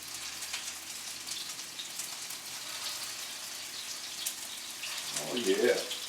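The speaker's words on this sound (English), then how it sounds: "So you can hear that sizzle." Swedish meatballs sizzle in olive oil in a saucepan, a faint continuous crackling hiss with small pops, rising to a brief louder burst near the end.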